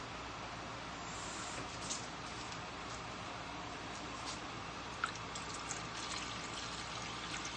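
A cup of water pours steadily into a pot for vegan grape jelly, a soft, even splashing hiss heard up close and alone.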